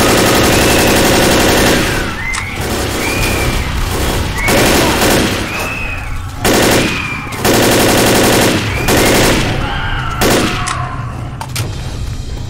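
Left 4 Dead video game combat with sustained bursts of automatic gunfire and a grenade blast, loud and dense throughout, with brief shouted voices.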